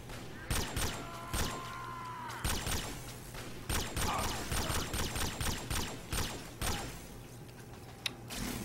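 Rapid bursts of gunfire from the video game Fallout 3, sharp repeated shots in clusters over a steady low hum, loud and close throughout.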